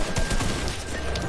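Rapid gunfire from a PS4 shooter game, several quick shots in a row that blur into a dense, noisy burst with no talk over it.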